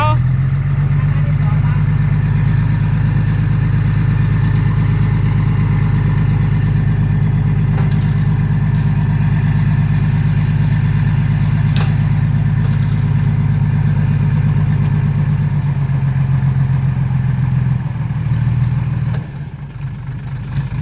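Loud, steady tractor engine running close by, a deep continuous chugging rumble that barely changes, easing slightly near the end.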